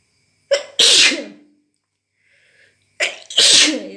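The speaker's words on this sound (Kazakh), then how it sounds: "Менде түшкіру өте көп." Two loud, close sneezes from a person with allergies, each a sharp intake followed by an explosive burst, spaced about three seconds apart with silence between.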